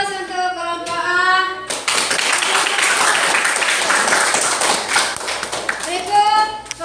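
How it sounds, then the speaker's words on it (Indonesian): Classroom applause for a student group during a lesson, a steady burst of clapping from many hands lasting several seconds, with children's voices briefly audible before and after. "ya aplaus untuk kelompok A"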